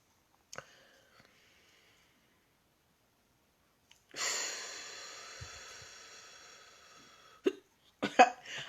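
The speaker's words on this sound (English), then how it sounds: "I'm trying to change my breathing pattern to take care of these hiccups, and it's not working" Hiccups sound in a quiet room as a few sharp isolated catches of breath and clicks spread apart, with a longer breathy rush between them, faint and close.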